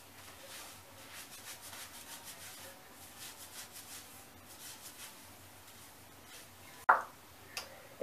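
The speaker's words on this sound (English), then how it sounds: "I'm scrubbing my scalp." Fingernails and fingertips scrub through a scalp while washing natural hair, a soft, close, rhythmic scratching rub that repeats steadily, ending with a couple of sharper knocks.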